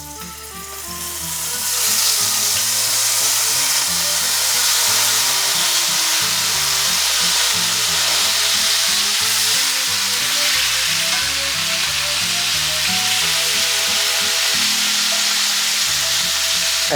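Pineapple sizzling in a skillet, the hiss swelling loud after a quiet start and holding steady and close, with a faint musical backing beneath and no talk.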